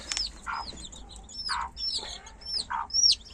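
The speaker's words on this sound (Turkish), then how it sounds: "Burada da yeni çıkmış yine civcilerimiz var." Several newly hatched chicks give short, high chirps in an irregular series, close by and fairly clear over a quiet background.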